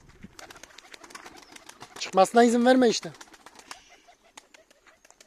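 Pigeons kept by a handler coo softly with brief bursts of wing flapping, faint and close, while someone speaks over them for a moment in the middle.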